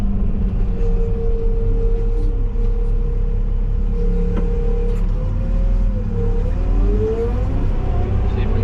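Manitou telehandler driving along a rural road, its diesel engine droning steadily up close with a shifting tonal whine and heavy low rumble, a constant loud cab-level hum.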